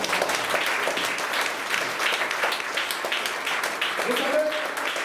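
A church congregation applauds the Lord, a dense, sustained round of clapping filling the room, with voices calling out over it and a speaker talking.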